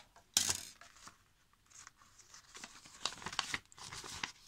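Scissors cut a paper envelope in a series of close, crisp snips and crinkles, starting with one sharp cut and continuing unevenly without talk.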